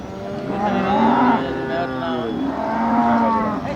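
Cattle low at the Manapparai cattle market, two long drawn-out moos close by, the second following after a short pause, over faint market background.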